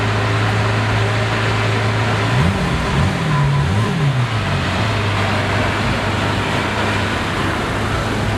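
A Lamborghini Hermes Aventador parks up nearby, its engine idling with a low rumble, then blipping through a few short revs before settling back, heard alone over background street noise.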